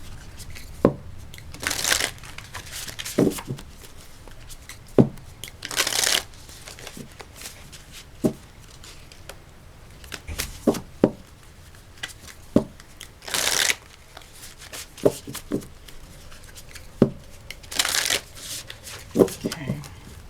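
Great Eastern Oracle cards are shuffled in repeated bursts of riffling and flicking, close and crisp, with quiet speech and soft handling sounds between the bursts.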